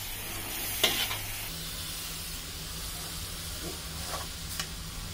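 Spring roll filling being stir-fried in a very large wok, a steady soft sizzle and hiss with occasional scraping stirs, close and continuous with no talking.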